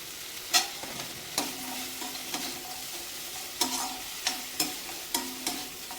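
Cashews sautéed in a pan for butter chicken, with a low sizzle under repeated sharp scrapes and taps of a spatula stirring, close and fairly quiet, with no talk.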